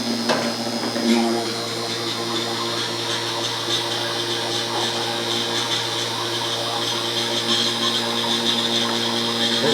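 A vacuum pump runs steadily on the air conditioning system of a 2013 Toyota Corolla 1.8L, a constant loud mechanical drone with an electrical hum and no change across the stretch.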